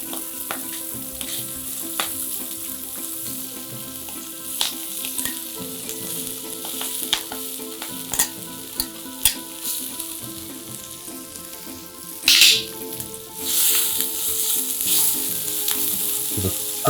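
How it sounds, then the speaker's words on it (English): Tofu and spring greens sear in a hot frying pan with a steady close sizzle, scattered pops and crackles, and a louder burst of frying near the end. "So the tofu is getting nice and seared here."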